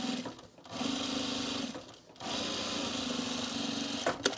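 Sewing machine understitching the seam allowance of a trouser pocket, a loud steady motor whir running in two long bursts with brief pauses between them.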